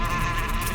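Bees swarm near a disturbed beehive, a steady, dense insect drone that holds close and loud without a break.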